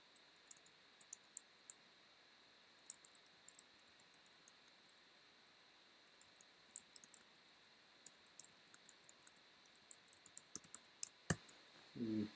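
Quiet, close computer keyboard typing: a run of light, irregular key clicks over faint background hiss as a subheading is entered, ending with a slightly louder burst at the end.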